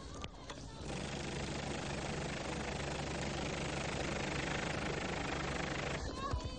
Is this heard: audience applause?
no